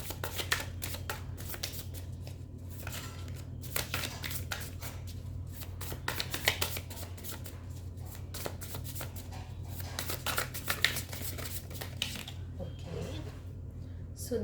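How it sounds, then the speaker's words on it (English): Tarot cards are shuffled steadily by hand, a close, continuous riffling and slapping of card stock with a low hum beneath. "And let's pull out some more cards."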